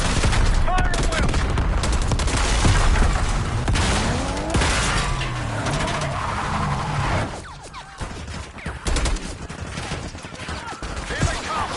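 Dense gunfire from a Black Ops 6 campaign assault on a palace gate, with rapid automatic bursts and overlapping shots running nearly nonstop, loud and close, with brief lulls and sharp cracks near the end.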